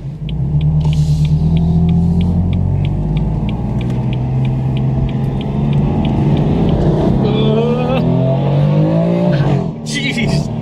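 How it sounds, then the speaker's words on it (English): A new BMW M4 accelerates hard with tire spin, its engine roaring loudly up through the revs with a rumbling exhaust as people talk over it inside the car. "That was definitely a tire spin."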